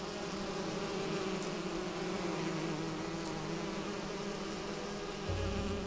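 Bees buzz in the fantasy world of the Enderal video game, a steady, continuous insect drone heard on its own throughout.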